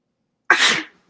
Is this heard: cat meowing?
no